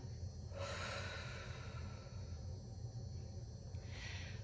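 A slow, deep inhalation rises as a soft airy rush, fades, then another breath begins near the end, all close and quiet over a low steady background hum.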